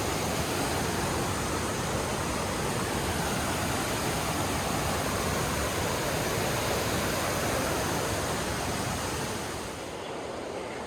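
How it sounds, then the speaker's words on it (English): A steady, dense roar of the rushing Kennebec River fills the whole clip, loud and continuous, easing slightly at the very end. "Water is rushing."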